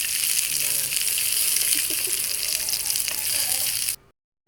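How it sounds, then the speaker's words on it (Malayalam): Cashews and raisins sizzle and crackle in hot ghee while being stirred in a pan, a loud, steady frying hiss that cuts off abruptly near the end. "ആ നെയ്യൊന്ന് ചൂടാവുമ്പോഴേക്കും നമ്മൾ അണ്ടിപ്പരിപ്പും മുന്തിരിയും എടുത്ത് അതിൽ മിക്സാക്കി കുറച്ച് നേരം ഇങ്ങനെ ഇളക്കി കൊടുക്കണം"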